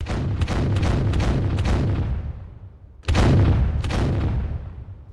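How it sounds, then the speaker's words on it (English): Pirate ship cannons fire in quick rapid volleys, heavy booming blasts that roll and decay, a burst of several shots then a pause before another loud round, with no talk. "Fire them cannons!"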